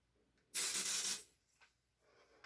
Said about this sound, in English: I'm going to put a bit more spray in it.